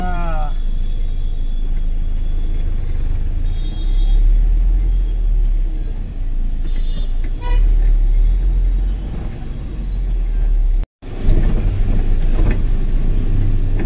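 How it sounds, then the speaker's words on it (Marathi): Heavy evening traffic on a city bypass road makes a loud, steady rumble of cars, buses and trucks, with engine drone and brief hisses close by, heard from inside a moving truck. "संध्याची वेळ आहे, गर्दी जास्त आहे,"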